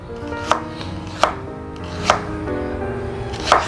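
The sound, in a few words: knife chopping ginger into thin julienne strips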